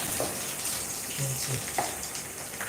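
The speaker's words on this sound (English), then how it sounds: "So now I'm frying my onions now." Soft, steady sizzling of onions frying in a pan for jollof rice, fairly quiet, with faint clinks and a distant voice in the background.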